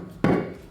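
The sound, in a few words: soft hammer tapping beadlock wheel on Jeep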